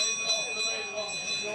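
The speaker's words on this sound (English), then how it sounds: "we hear the bell for 1 lap to go" A bell rings for the last lap of a senior men's cross-country race at the European Championships, a sustained bright ringing tone under crowd noise and commentary.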